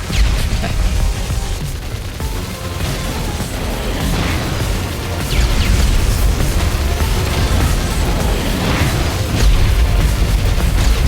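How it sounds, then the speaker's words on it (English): Continuous barrage of booming explosions and bursting blasts in the twin-stick shooter game Assault Android Cactus, loud and dense with overlapping detonations, alone with no talking. "All the explosions."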